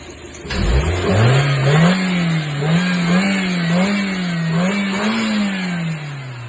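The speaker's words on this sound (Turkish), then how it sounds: "bu aracı çalıştırdık şimdi. Çalışmasını görüyorsunuz." A car engine starts and runs close by, its tone rising and wavering with light revs before settling into a steady hum.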